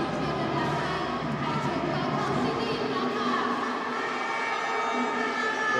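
A loud home crowd at a Hi-Tech Bangkok City versus Saigon Heat basketball game in Bangkok, a steady roaring din with horn-like sustained tones under it, unbroken for the whole stretch.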